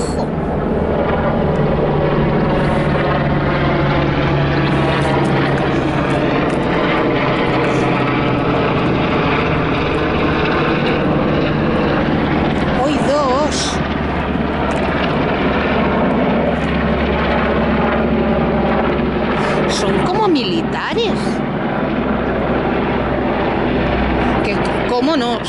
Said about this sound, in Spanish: Son helicópteros militares, Pitis.